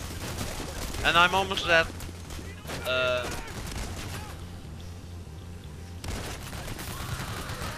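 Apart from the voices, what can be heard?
gunfire in video game PayDay The Heist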